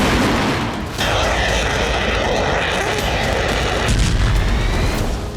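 Heavy bombardment explosions in the Russia-Ukraine war boom as loud, rumbling blasts over a dense roar of low noise, with sharp new impacts at about one second and again near four seconds.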